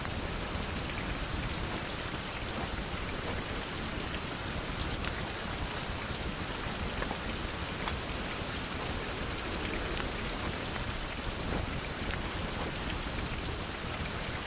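Continuous Minecraft rainfall in survival mode, a thick unbroken patter of raindrops with an even, close wash of noise and no voices, faint hints of distant rumble underneath.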